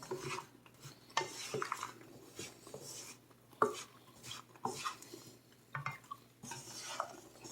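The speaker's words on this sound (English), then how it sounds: "Just keep stirring them." Candied almonds being stirred in a pan, with dry rattling scrapes and clicks of nuts and utensil against metal in uneven bursts, close and fairly quiet; no voices.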